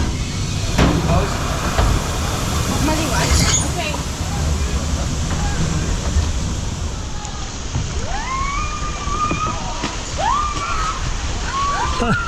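Rushing water and sloshing on a water park slide at Aqualand S'Arenal in Majorca, a steady broadband wash throughout, with a person's voice calling out near the end.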